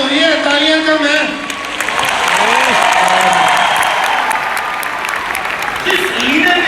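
Audience applause at a company success event: a loud, sustained crowd of clapping with a voice talking over it.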